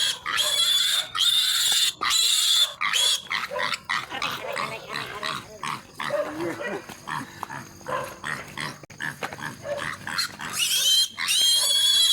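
Pig grunting and snorting at night on a Filipino farm, repeated rough grunts close to the microphone, with a dog's growls and barks mixed in and brief voices.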